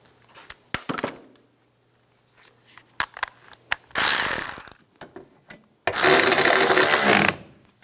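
Ratchet wrench tightening the wiper arm nut on a 2004-2009 Toyota Prius, with scattered close clicks and taps followed by two long, loud runs of ratcheting.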